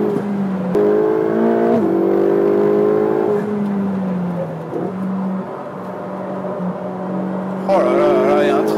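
Turbocharged 670-horsepower Ferrari 488 GTB engine, a 2015 car, revving hard on the road, with steady rising harmonic engine tones, a brief shift dip, then a fresh surge of revs near the end, loud and close throughout.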